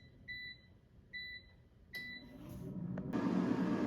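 Air fryer control panel giving a short electronic beep three times at a steady pace while temperature and time are set, followed by a brief rattle and a rising fan whoosh.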